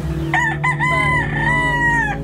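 A rooster crows loudly and close by on a rural property of over an acre where many chickens are kept, a long drawn-out call over a steady low background hum.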